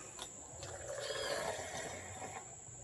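Water poured into a slime mixture, a soft, steady gushing and splashing that swells in the middle and tapers off, fairly faint and close with no talk over it.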